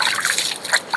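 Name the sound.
water splashed on face after shaving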